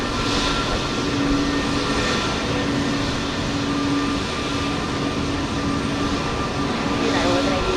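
A jet airliner's engines roar steadily at Houston Intercontinental airport, a loud continuous drone with a faint tonal hum running underneath.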